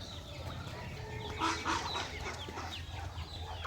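Ducks quack and chatter in a loose group nearby on a rural Philippine farm, with a few sharper calls standing out over a steady background hum.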